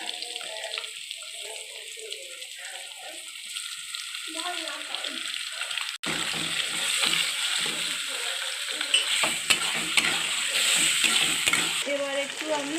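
Chicken sizzling in a hot pan with ginger garlic paste, stirred with steady scraping; a quiet stretch gives way to louder, busier frying and stirring while a person talks over it.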